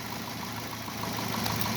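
A 280 W vibration water pump run from a 500 VA computer UPS starts up and settles into a steady mid-low mechanical hum with a constant buzzing drone, moderately loud and close, with no talk.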